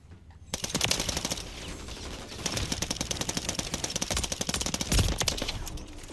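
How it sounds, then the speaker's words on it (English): Rapid bursts of gilded pistol fire in Modern Warfare III, each trigger pull releasing a second shot, crackling densely and loudly almost without pause across the whole stretch. "Pull the trigger once with this pistol, then you fire a second bullet."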